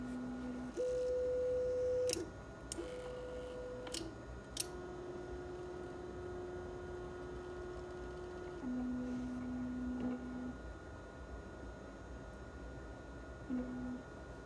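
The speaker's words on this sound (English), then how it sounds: "the only time that you're going to really hear anything is the fans on the Meanwell power supply" An Anet ET4 Pro 3D printer running with its Meanwell power supply fans gives a faint steady hum, with sustained tonal stepper-motor whines of changing pitch and a few sharp clicks.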